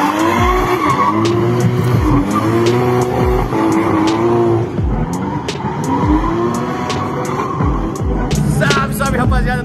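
A drift car on a warm-up lap at the Ultimate Drift event in Brasília, a round of the Brazilian drift championship: loud, close engine roar with repeated bursts of tire squeal and skidding throughout, no talking.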